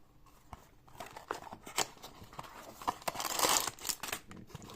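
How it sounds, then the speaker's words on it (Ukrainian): Crinkling and tearing of plastic packaging on a Lego set, close and fairly quiet, with irregular rustles and a louder ripping burst partway through, no talking. "Ну, в принципі, давайте вже відкривати."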